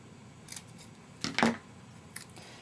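Scissors snip through paper to shape small tails for a flag design. A few brief, crisp cuts come close by, with the loudest snip in the middle, against a quiet background.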